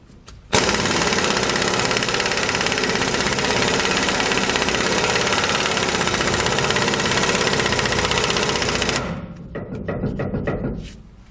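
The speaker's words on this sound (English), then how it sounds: "what's nice about this gun is that it's not too strong and it won't cinch it down and start collapsing that spacer in there" An air impact gun runs in one long continuous burst, tightening the pinion nut on a Ford or Dana axle in a workshop; it is loud and steady with a rattling hammer, then stops and a few short clicks follow.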